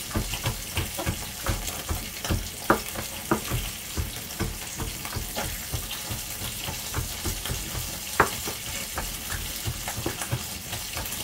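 A spatula scrapes and clinks as food is stirred in a pan. The strokes are uneven and repeat over a soft bed of sizzle, close and moderately loud, with no talking.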